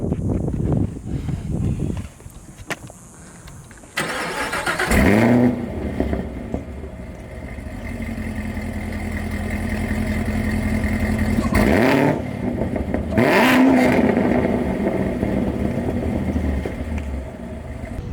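A Chevrolet Camaro ZL1, formerly drag raced and stripped of its back seats, cranks and starts, then settles into a loud, lumpy idle broken by two sharp, close throttle revs.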